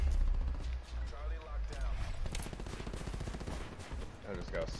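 Gunfire sounds out in a PS4 shooter, several sharp reports and rapid bursts heard at a distance, with a player talking over the game audio.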